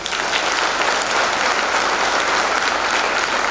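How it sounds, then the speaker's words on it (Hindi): Sustained audience applause at a direct-selling anniversary celebration, dense and loud, steady throughout with no gaps. "तो ऊपर से अपने आप के लिए ताली हो जाए मेरे दोस्त।"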